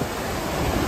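Heavy sea waves surge and break along a shore, a loud, constant roaring wash with no pauses, close and filling the scene.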